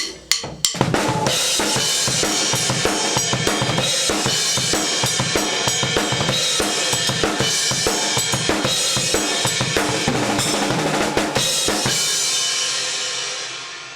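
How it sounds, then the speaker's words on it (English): A fast drum fill rolls across two toms and snare with crashing splash cymbal accents, loud and dense, ending as a final cymbal rings out and fades. "split between the 2 toms, the snare, and the splash cymbal"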